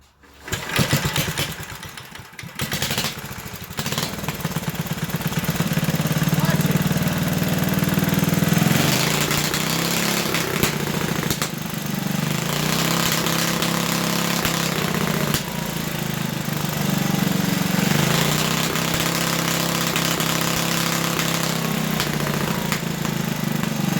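An 8hp Briggs & Stratton engine on a Big Hoss machine, with an exhaust valve issue, cranks and catches, then settles into a loud, steady idle with small rhythmic surges. The sound is close and continuous, with no talking.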